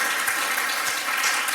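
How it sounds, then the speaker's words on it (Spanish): A church congregation applauding in praise, a continuous dense wash of many hands clapping at once, steady and fairly loud throughout. "Denle un aplauso de alabanza,"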